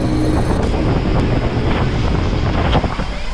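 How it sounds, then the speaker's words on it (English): Strong wind batters a fishing boat out at sea off the Seychelles, a loud, constant roar of gusts buffeting the microphone over rushing water, with no voices. "Now the wind increased too. Before was less wind, now it's a lot of wind too."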